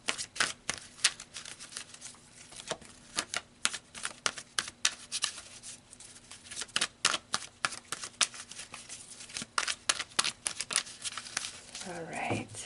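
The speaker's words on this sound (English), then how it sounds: "So let's pull some more cards." Tarot cards being shuffled and pulled from the deck, a dense run of quick papery riffles and flicks close by, a soft voice entering near the end.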